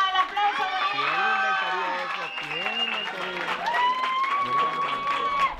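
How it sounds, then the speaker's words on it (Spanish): Applause at a quinceañera celebration in San Rafael Llera, Tamaulipas, a steady crowd clapping mostly buried beneath a loud announcer's voice and music throughout. "¡Fuerte el aplauso!"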